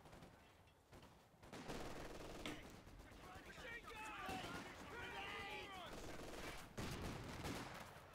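A Vickers machine gun rattles in rapid bursts in a strategy video game, its gunfire mixed with explosions and mid-distance battle noise while a commentator talks over the action.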